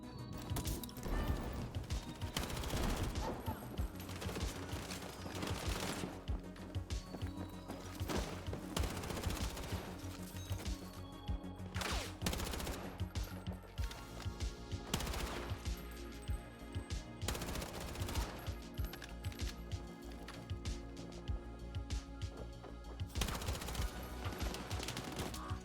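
Kord machine gun firing in Battlefield 6, dense sustained automatic bursts rattling almost without pause, mixed with crashes and impacts in loud, continuous game combat.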